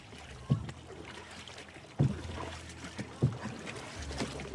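A boat travels across water with a steady low rumble, punctuated every second or so by dull thumps and splashes as the hull meets the waves.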